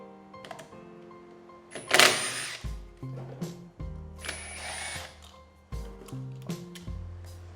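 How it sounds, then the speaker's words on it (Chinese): A power drill backs the screws out of an electrical outlet cover during a kitchen renovation. It gives several short whirring bursts at shifting pitches, close and fairly loud, with pauses between them. "你也可以直接把螺丝给拆掉。"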